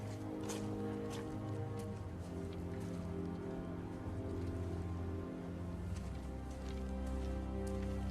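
Steady rain falls and patters in a continuous, even wash of noise, with faint scattered drips and a low droning hum beneath it and no voices.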